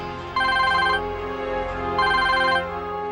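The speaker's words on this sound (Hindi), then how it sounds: "उनका फोन बस आता ही होगा" A telephone rings with two electronic trilling bursts separated by a pause, steady and clear over a low background hum, with no speech.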